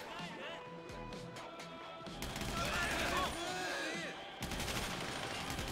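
Gunfire from a GTA shootout, rapid bursts rising and falling over a busy game soundtrack with background noise, continuous through the stretch and fairly loud.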